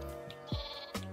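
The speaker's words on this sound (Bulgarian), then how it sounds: "О, бебе овца, чакай." Sheep bleating in Minecraft, a baby sheep among them: two short nasal bleats, close and clear, each with a falling pitch, separated by a brief pause with no talk over them.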